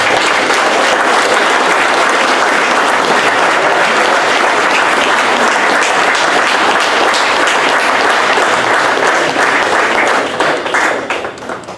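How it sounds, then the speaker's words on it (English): An audience at a tech institute alumni forum gives a sustained round of applause, dense steady clapping filling the room for about ten seconds before tapering off at the end. "we want to give him a round of applause"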